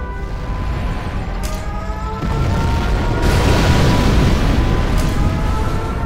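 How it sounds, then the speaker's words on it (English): A deep, continuous roar of a nuclear missile launch and blast in Command & Conquer: Generals Zero Hour swells suddenly partway through and rumbles on loudly, with faint higher crackles on top. "We have launched our nuclear missile."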